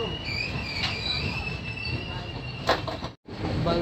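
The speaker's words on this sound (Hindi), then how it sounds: "ये देखिए हमारी ट्रेन बल्लासार से निकल चुकी है।" Passenger train pulling out of Ballarshah station, heard from on board, with a steady rolling rumble, a high wheel squeal running throughout and a brief dropout near the end.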